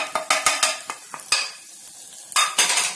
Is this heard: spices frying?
yes